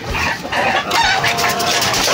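Chickens, including White Kelso fowl, cluck and a rooster crows nearby in a loud, busy burst of overlapping calls.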